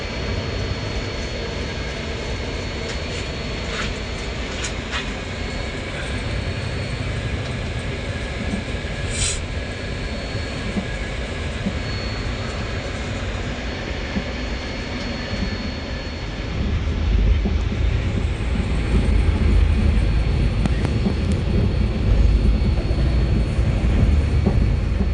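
A passenger train leaving a station near Kolkata rolls along with a continuous rumble and rattle of wagons, and the low roar grows heavier partway through as it gathers speed.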